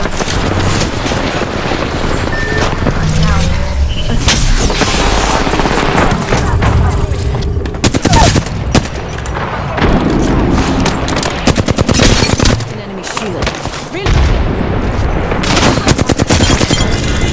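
Rapid automatic gunfire in Apex Legends, sustained bursts of machine-gun fire and shots crowding most of the stretch with brief gaps, loud and close, while players talk over the action.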